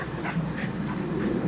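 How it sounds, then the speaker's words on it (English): A large, active American Bulldog panting close by in quick, rhythmic breaths, about four or five per second, with no voices over it. "He's a real active dog."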